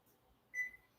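A single short electronic beep from a kitchen timer being set while cooking, faint and close, in an otherwise quiet room.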